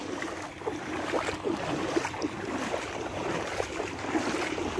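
A boat pushes through flood water over a submerged road in Sylhet, making a constant rushing wash of water with splashy surges, loud and near, with wind noise and no talk.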